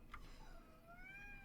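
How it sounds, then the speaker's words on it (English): A house cat meows once with a drawn-out, rising and falling cry, faint against a quiet indoor background. "You folks can hear the meowing, but it's there."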